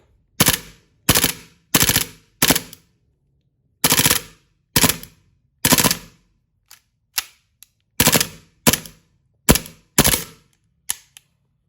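A gas-powered BB gun fires in sharp, close bursts, several quick strings of rapid shots separated by short pauses, then scattered single pops near the end.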